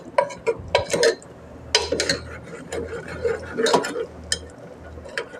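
Scraping and clattering of a utensil against a pan while somberi chicken mixture is stirred, irregular knocks and clinks up close, with a quiet hum underneath.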